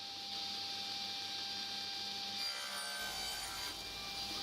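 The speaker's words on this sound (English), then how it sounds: "Just mitering the ends of the box now." Small walnut and maple pieces being sawn for mitered box ends, a steady, close rasping saw stroke running continuously with no pauses and no talk.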